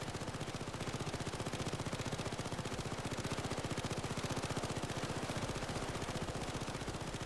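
An automatic turret in the video game Payday 2 fires a loud, unbroken stream of rapid gunfire at an even rhythm for the whole stretch, with no other sound.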